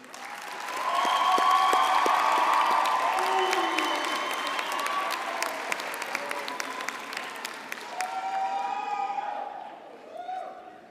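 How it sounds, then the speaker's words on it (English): Graduates at a University of Pretoria theology and religion graduation ceremony applaud in a large hall. The loud crowd clapping swells quickly, holds, then thins and tapers off toward the end, with some voices mixed in. "I now give the time to the graduates to applaud their parents, friends, and relatives."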